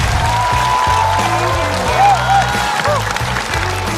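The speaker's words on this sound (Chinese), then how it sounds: "再次掌声送给冯子豪" Audience applause for a stand-up comedian on a comedy show stage, steady clapping running under a voice and background music, moderately loud throughout.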